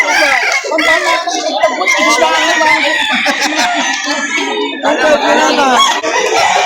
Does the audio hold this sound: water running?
no